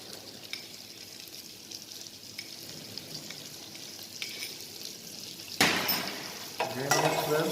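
Green onion and garlic sizzle in a pan, with a soft continuous fry that grows louder as something new hits the oil near the end, followed by brief scraping stirs.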